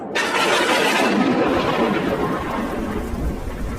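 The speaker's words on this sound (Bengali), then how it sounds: "এর বৃষ্টি শুরু হয়ে গেল।" A loud, close thunderclap breaks into a rolling rumble over heavy, steady rain in a Bengali cartoon storm scene, with the downpour hissing continuously throughout and no voices.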